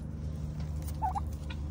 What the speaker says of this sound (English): That's a messed up looking bird right there.